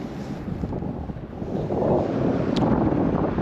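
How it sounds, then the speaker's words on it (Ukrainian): Strong wind buffets the microphone on a riverside embankment in Kyiv during winter fishing, a dense steady roar with low rumbling gusts that swell louder in the second half, with no talking. "на вітру, друзі, скажу я вам так, серйозно продуває"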